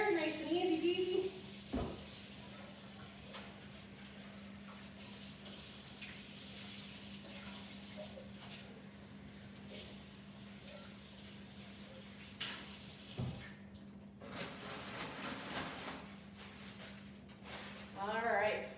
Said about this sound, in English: I'm gonna quickly rinse it out and wash it